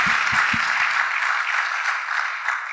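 A church congregation applauds during a testimony service, with a broad wash of steady clapping from many hands that holds evenly and then eases slightly, and a few low thumps at the start.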